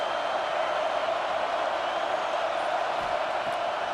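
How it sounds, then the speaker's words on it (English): A large college football video game stadium crowd roars continuously, a dense, steady wall of cheering noise with no pauses. "Listen to this crowd just shaking the girders of this place"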